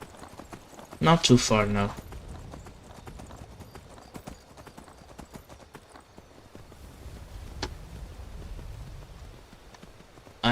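A horse's hooves clip-clop in the video game Skyrim, with a brief, loud burst of close hoofbeats followed by softer, scattered steps. A voice speaks over them.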